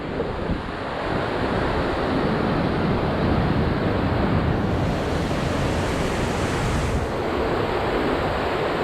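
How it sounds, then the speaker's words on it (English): A river in the Linville Gorge rushes steadily, a loud, continuous broadband roar of flowing water with some wind buffeting, heard alone without speech. "Pretty river."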